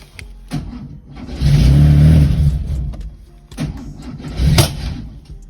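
A 1973 Porsche 911T engine cranks and catches, swelling into a loud, close idle with a rising rev, dipping, then a second sharp rev burst near the end.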